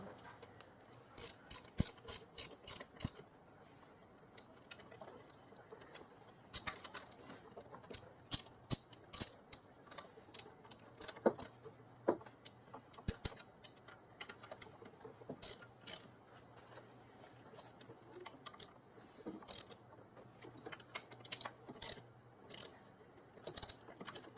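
A hand ratchet runs down throttle body bolts on a 2001 Infiniti QX4, a faint, rapid series of sharp clicking pawl strokes in repeated runs with short pauses between them.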